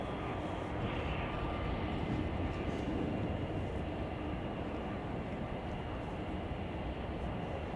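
An American Airlines airliner arriving at Chicago O'Hare gives off a steady, distant jet rumble, a continuous broadband roar at moderate loudness with no clear peaks.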